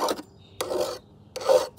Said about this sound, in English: as long as you have a file, you can sharpen your own blade anytime your blade gets dull